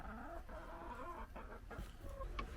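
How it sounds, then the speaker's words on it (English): A flock of hens leaving their coop for the day clucks and murmurs steadily, several birds close together with overlapping soft calls and a few sharper clucks. "now they'll just go out for the day, a chicken procession"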